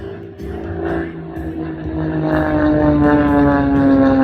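An aerobatic airplane flies at an airshow in Midland, Virginia, its engine drone steady and rising in pitch as it climbs, loud and fairly close, with faint crowd noise in the background.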